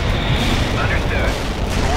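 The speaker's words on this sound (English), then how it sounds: "Artillery firing. Perfect artillery hit." Rumbling artillery fire and explosions from the real-time strategy video game World in Conflict, a continuous loud, booming roar of shelling, with radio-style voices speaking over it.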